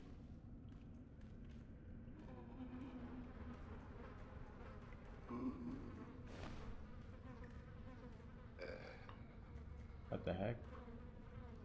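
Giant grasshopper in the video game Sekiro, a steady insect buzz running through the whole stretch with game ambience, while someone talks over it in short bursts.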